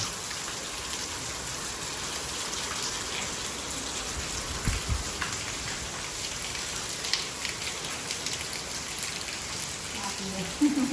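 Steady monsoon rain pours down in a dense, even hiss that carries on without pause, with scattered drops pattering close by, in Manipura village, Gujarat.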